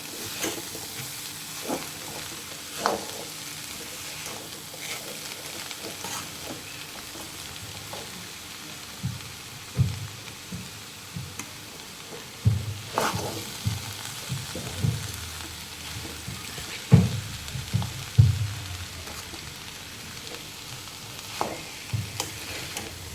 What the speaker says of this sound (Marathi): हे मी व्यवस्थित परतून घेते हे बघा आपलं आता गूळ पूर्ण विचलून झालेला आहे